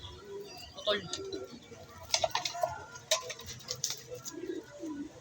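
Pigeons coo softly in a loft alongside scattered bird calls and sharp clicking sounds, while someone talks nearby throughout.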